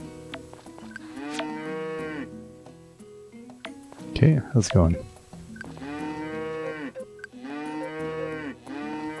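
Cartoon cows in the farming game Story of Seasons moo in a few long, drawn-out calls, separated by a brief clattering burst, while a player chats over the game.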